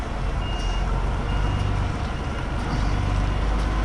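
A truck reverses at night on an agency driving job, its engine rumbling loud and close under a steady drone with faint, regularly repeating reversing beeps.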